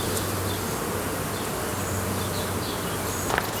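Dense, steady buzzing of many honeybees around an open top bar hive at the end of spring, close and continuous throughout.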